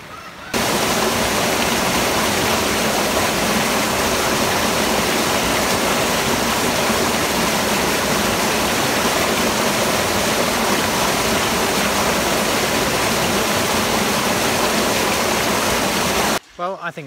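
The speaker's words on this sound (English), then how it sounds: "I just think it's great to walk in the rain." Heavy rain falls during the Malaysian rainy season, making a dense, loud, unbroken hiss for about 16 seconds before it stops abruptly.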